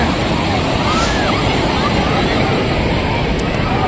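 Fast-flowing river water at a bathing spot gushes in a loud, constant broadband rush, close and unbroken throughout.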